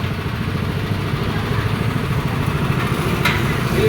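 The engine of a coconut milk pressing machine runs close by with a steady, rumbling idle and light mechanical clatter, continuous and fairly loud.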